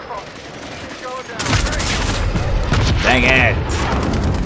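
Bursts of automatic gunfire in a Call of Duty Modern Warfare match erupt about a third of the way in and keep going loud and dense, while a player talks over the shooting.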